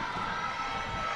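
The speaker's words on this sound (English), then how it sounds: "The crowd getting really involved. You can hear that in our effects mic." A crowd at a women's basketball game, the Launceston Tornadoes against the Nunawading Spectres, cheers in a sustained, even roar from the stands with no distinct breaks.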